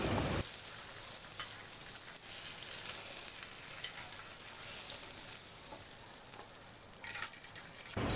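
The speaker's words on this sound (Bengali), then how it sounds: "এই তেলের মধ্যেই 4টি শুকনা মরিচ বোটা সহ ভেজে নিচ্ছি" Four dry red chillies, stems still on, fry in hot oil left over from frying hilsa fish, giving a steady, close, bright sizzle that hisses continuously throughout with no talking.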